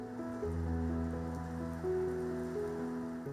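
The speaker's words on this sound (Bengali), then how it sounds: "অবশেষে নামল প্রতীক্ষিত সেই ধারা।" Heavy monsoon rain pours steadily over a city, a continuous hiss of falling water with a low, sustained tonal drone running beneath it.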